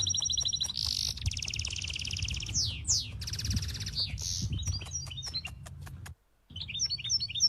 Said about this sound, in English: It's a very chirpy bird.